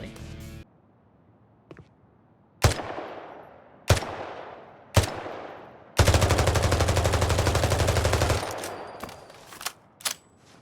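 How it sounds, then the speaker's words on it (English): Weapon fire on a Payday 3 test map: a few single heavy, booming shots with ringing tails, then a sustained loud automatic burst of about two seconds, followed by another shot. "There's a cool one that lets you test weapon sounds"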